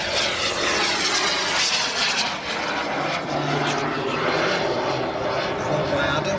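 A Mephisto large-scale model aircraft, 24.6 kilograms with a 2.6-metre wingspan, flies at an airshow, its engine a steady, loud broadband roar that holds throughout with a faint voice beneath.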